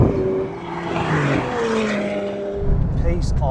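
A Porsche 911 Turbo S and a McLaren 720S run side by side in a drag race, engines roaring loudly with rising pitches as they accelerate. A voice talks over the noise.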